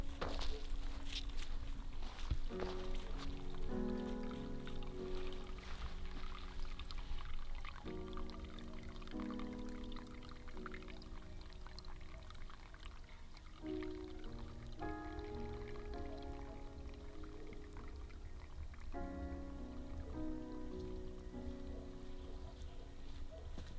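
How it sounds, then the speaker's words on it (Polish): Water trickles and runs steadily in a continuous pouring stream into a pond, close and unbroken, with a layered tonal hum running alongside. "Po prostu woda leci ciurkiem."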